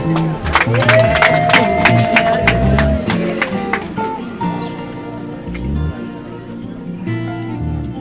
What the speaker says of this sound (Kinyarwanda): Mumuhe amashyi rwose mubahe amashyi